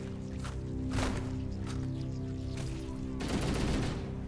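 Sustained automatic gunfire in a Halo game, echoing down an enclosed alien ship hallway, with rapid bursts repeating steadily for several seconds at moderate volume.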